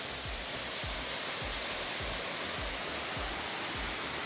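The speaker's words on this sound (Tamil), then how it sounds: "Look at the waterfall." Catherine Falls near Kotagiri in the Nilgiris gives a steady, loud, close roar of falling water, with a soft repeated low thumping running underneath.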